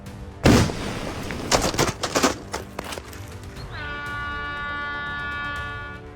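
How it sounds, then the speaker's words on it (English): Controlled explosion shattering giant boulders on a road near Mammoth Bar, a sharp distant blast followed by rumbling crashes of breaking rock, then a sustained tonal hum. "Giant boulders blocking Old Forest Hill Road near Mammoth Bar were shattered in a controlled explosion"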